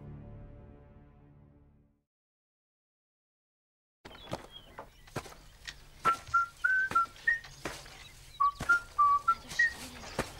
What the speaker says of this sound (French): Que sifflotent donc ces douaniers au premier plan de cette image?